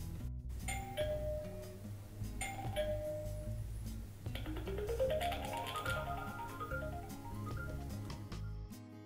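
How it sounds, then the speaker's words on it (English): A Netvue Belle video doorbell plays its cheerful setup melody, a bright rising run of chime tones heard alone and clearly, following a few earlier single dings. "Once you hear a cheerful melody, Belle is successfully added to your phone."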